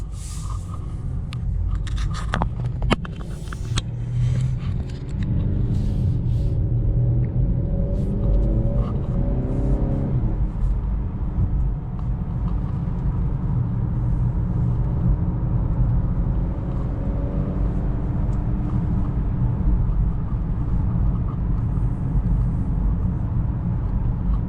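A 2021 Honda Accord 2.0T Sport drives through traffic, heard from inside the cabin as a constant loud engine and road rumble with a few clicks and bumps early on and slight shifts in tone.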